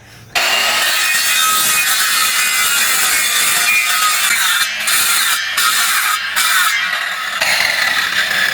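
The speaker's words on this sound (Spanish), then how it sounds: "Le vamos a cortar aquí para que nos asiente bien toda la guadua" Guadua bamboo cut with a handsaw while building a campfire shelter, steady loud rasping strokes running nearly nonstop and close up, with a few brief pauses near the end and no voices.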